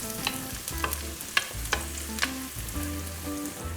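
Finely chopped garlic is tossed and stirred in hot oil while cooking rajma chawal, giving a steady sizzle broken by repeated scraping strokes of the utensil against the pan, close and fairly loud.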